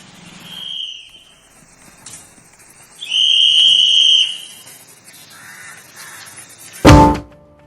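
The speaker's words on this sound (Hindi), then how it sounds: "सफाई कार्य में लगी ये महिलाएं तब तक सीटी बजाती रहती हैं" Women sanitation workers blowing whistles to call residents out with their garbage, several sharp shrill blasts, one short and one longer and louder, followed by a knock-like thump.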